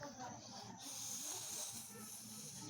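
A voice, apparently a child's, imitates a snake's hiss with a steady breathy sound that runs through the short moment, close and fairly quiet, with faint talk around it.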